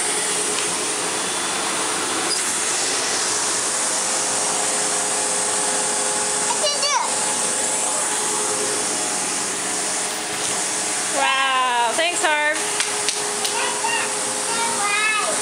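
A Sebo vacuum cleaner runs steadily throughout as a loud, close, broadband whirring hiss, with brief whistling pitch changes from the hose and a person talking under it.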